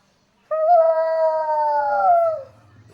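A person imitates a jackal with one long, clear, wavering howl held for about two seconds before it drops away, close and loud against a quiet room.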